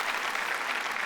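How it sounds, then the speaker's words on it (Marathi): Audience applause for a guest on a Marathi television comedy show stage: dense, steady clapping filling the whole moment, close and even with no talk over it. "जोरदार टाळ्या अशोक सराफ यांच्यासाठी."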